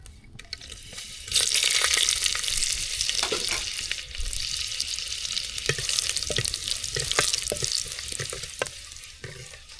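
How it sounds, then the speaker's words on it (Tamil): Dried red chillies fry in hot oil with a dense, continuous sizzle, and scattered metallic clinks of a stirring spoon sound through it. "எண்ணெய் எல்லாம் சூடாகிடுச்சு வரமிளகாய் சேர்த்துக்கலாம்"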